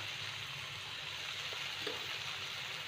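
Turmeric powder and garam masala being sautéed in a pan for street-style tawa pulao, giving a steady, moderately quiet sizzle with faint stirring scrapes and no talk.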